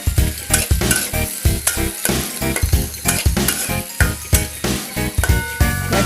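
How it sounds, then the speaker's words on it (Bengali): Onions frying lightly in oil in a wok, with steady sizzling and repeated stirring clinks from a utensil, under prominent tinkling background music. "পেঁয়াজগুলো একটু হালকা ভেজে নিব"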